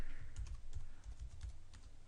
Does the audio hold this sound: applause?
no